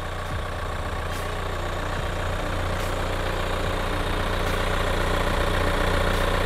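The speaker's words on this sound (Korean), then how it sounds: "엔진 소리 일정하네요" A Kia All New Sorento 2.0 diesel 4WD idles with the engine bay open, giving a steady, even, close rumble that stays constant throughout with no voices.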